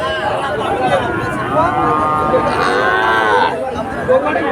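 A calf at a crowded cattle market moos in a long, wavering call over a steady hubbub of people talking and milling about.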